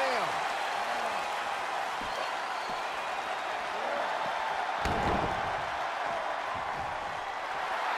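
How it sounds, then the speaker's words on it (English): Virtual arena crowd noise in the WWE 2K22 wrestling video game, a steady dense roar of cheering held at even loudness throughout, with a sharp thud partway through like a body slam. "The sound of this crowd is deafening, and he's asking for more."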